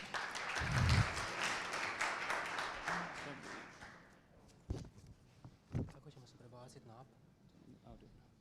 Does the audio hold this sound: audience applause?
yes